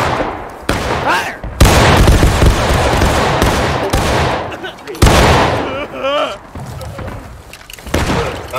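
Musket volley fire in War of Rights: loud, dense crackling volleys from many guns at once, two big bursts separated by a pause, with shouting voices in between.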